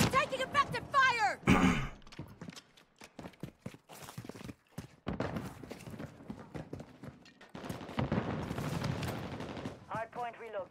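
Gunfire from a DG 58 burst assault rifle in Call of Duty: Modern Warfare III, heard as sharp bursts and scattered shots mixed with game chatter and excited talk.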